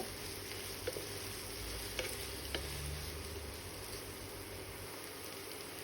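Onions sizzle and fry steadily in hot oil for birista for a chicken roast, a dense, continuous crackle close by, with a few brief clinks of a utensil against the pan.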